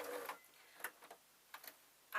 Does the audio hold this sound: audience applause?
no